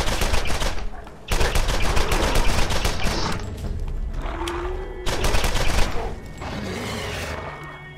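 Video game gunfire in Borderlands 1 comes in loud, rapid volleys broken by short pauses, with a strong opening burst, another after a brief gap and a final flurry near the end, with no talking.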